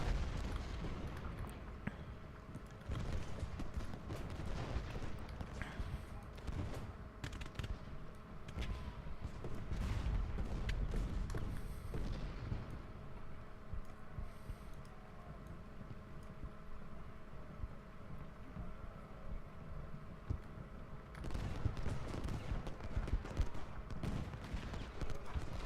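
Musket volleys and artillery fire from the Civil War strategy game Ultimate General: Gettysburg, a dense, continuous rumble of distant gunfire and booms running steadily throughout with no talking.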